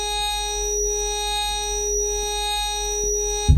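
Korg WaveStation synthesizer plays a sustained, buzzy held tone from a two-wave sequence with a slight pulsing wobble, steady and close with no voice, cut off by a brief thump at the end.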